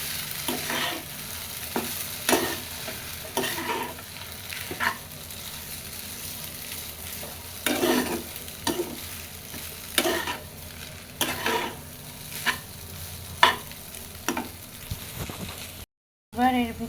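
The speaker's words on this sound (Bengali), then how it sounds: "ম্যাগি, দিয়ে খুব ভালোভাবে এখন মিশিয়ে নেব।" Boiled Maggi noodles are stirred in a frying pan. Scrapes and clacks from the utensil recur over a constant sizzle, and the sound cuts out briefly near the end.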